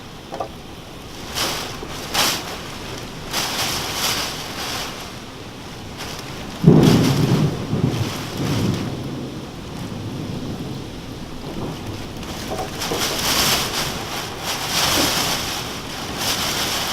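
A thunderstorm with a very strong downburst: a steady wash of heavy rain and wind runs throughout, with a deeper rumble of thunder rolling in near the middle and fading gradually, no voices.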